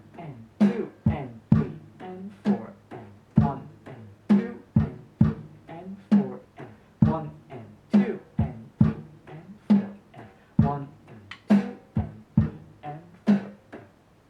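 Drum kit playing an 8-beat rhythm, with the bass drum on beat 3 and the snare on beats 2 and 4: evenly spaced, crisp strikes repeat steadily in a clear, close pattern across the whole passage.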